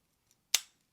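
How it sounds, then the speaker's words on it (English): A single crisp snip from the small scissors of a Victorinox Delemont Evo-Grip 16 Swiss Army knife, close and short, ringing out alone in near silence. "We've got our scissors here, which are absolutely awesome."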